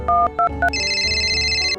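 A telephone ringtone in a household setting, three short two-tone electronic chirps followed by a sustained bright ringing tone, loud and close, with no voices over it.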